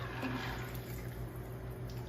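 Liquid from a freshly shaken cocktail pours steadily into a glass at a gala, a continuous close trickling stream lasting a couple of seconds with no talking.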